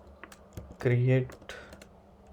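Computer keyboard typing while code is written for a Leetcode problem: scattered crisp key clicks close by, with a short spoken word breaking in midway.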